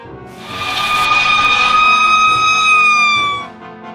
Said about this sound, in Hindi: इसके बाद फायर इंजन वहां आ पहुंचा।